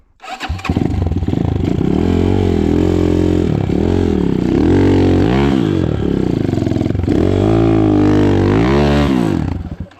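A KAYA 512 motorcycle engine cranks and catches, then runs loud and close with repeated revving surges and falling idle dips throughout.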